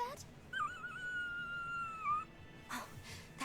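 A dog in the Tales of Berseria video game gives a long, thin whimpering whine that wavers and fades, followed by brief breathy game sounds; quiet overall.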